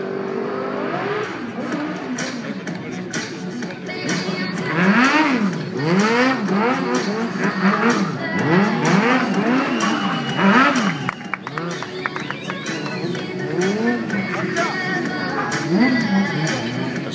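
A motorcycle stunt rider does circles at a show in Noyon, the engine rising and falling in repeated swooping revs with tire squeal, loud and continuous beneath an announcer talking in French.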